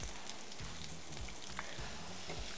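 Onions frying in a pan for foxtail millet khichdi, a steady close sizzle with soft crackling and faint stirring scrapes, no voices.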